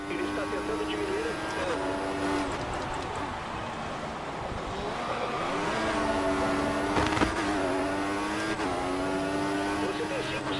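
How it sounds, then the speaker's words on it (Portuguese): Formula One race car engines in F1 2014 at the Singapore Grand Prix, screaming at full power with rising and falling gear-shift whines. A voice talks over the constant engine roar. "Achamos que o carro atrás de você está dando potência máxima."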